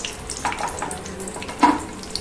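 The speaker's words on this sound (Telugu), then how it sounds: "నూనె కాగింది, ఉసిరికాయలు వేసుకున్నాం." Amla gooseberries frying in hot oil for a pickle, a steady close sizzle with a soft bubbling texture and one brief louder spatter near the end.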